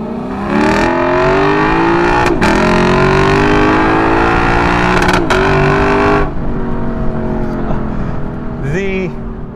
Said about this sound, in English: The pops of the exhaust, the cracks that you get on the upshifts